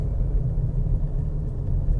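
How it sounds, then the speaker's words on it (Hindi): A steady low rumble of a Škoda Kushaq 1.0 automatic moving along Abu Road toward Mount Abu, heard from inside with no voices. "अभी हम लोग चला रहे हैं आबू रोड पे गाड़ी"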